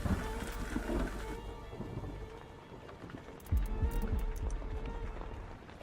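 Thunder rumbles deeply and rain patters steadily in the Blair Witch horror game. A heavy low roll comes early, and a second thunderous thump hits midway under continuous rainfall.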